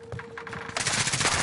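Short burst of rapid automatic fire from a fast-action gun in Call of Duty Modern Warfare multiplayer, quieter ticks giving way to a loud, dense rattle in the last half second.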